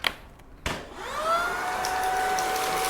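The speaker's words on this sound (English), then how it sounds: "Next up, we have the Shark Vacuum on the carpet mode, but still on the standard power mode." A Shark Pet vacuum cleaner on carpet mode at standard power starts with a few clicks, then settles into a loud, steady whine with a rising tonal hum, running on its own close by.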